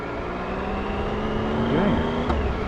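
Steady engine and road roar from a motorcycle riding in traffic in February, with a passing vehicle sweeping by near the end and a brief sharper sound just after.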